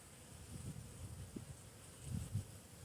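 Honeybees fly outside the front of a hive in midwinter on orientation and cleansing flights, giving a faint, intermittent buzzing with a few slightly louder passes against soft outdoor background noise.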